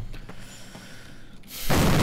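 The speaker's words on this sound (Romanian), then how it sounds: "Ok, trebuie să pun o bombă. O să bubuie, o să bubuie." A bomb detonates in the video game Call of Duty, set in Brecourt Manor, France: a quiet stretch with faint clicks builds to a sudden loud, broad blast that roars on to the end.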